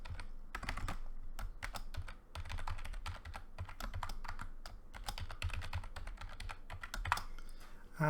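Fingers type steadily on a computer keyboard, entering a password while setting up a user on a test server. Dense, fast key clicks run continuously and close but fairly quiet, with no voices.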